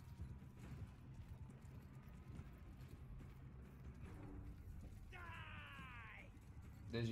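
Horse hooves clip-clop in a battle in the game Mount and Blade 2 Bannerlord, a steady beat over a loud, busy game din, with a brief whinny near the end.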